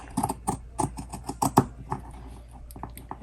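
Pinking shears cut around the edge of scrap fabric, a quick series of close, crisp snipping clicks, several in quick succession, then sparser toward the end, with no talk.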